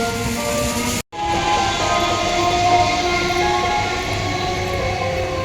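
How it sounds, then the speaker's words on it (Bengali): A train rolls past steadily and close, with a continuous rumble and rail noise that holds for several seconds after a brief cut; a faint horn-like tone sits on top and no one speaks. "ট্রেন যাচ্ছে।"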